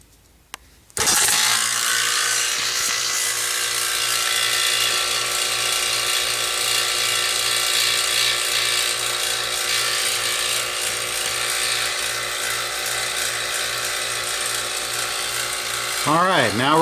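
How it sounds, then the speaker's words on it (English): Vacuum pump drawing down the A/C system of a 2005 Town & Country, starting abruptly after a click and then droning steadily and loudly with a buzzing mechanical hum until it winds down near the end. "we're going to start the vacuum pump, open both these valves in no particular order, and let it run for about another 45 minutes"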